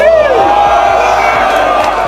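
A rap battle crowd cheering and whooping loudly, a dense close wall of voices and hollering that stays strong throughout with some clapping mixed in.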